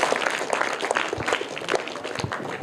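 Audience in a quiz gathering applauds a winner who receives a bag as a prize, a dense, moderately loud patter of many hands clapping steadily throughout, with no talking over it.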